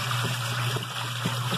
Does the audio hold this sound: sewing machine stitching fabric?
no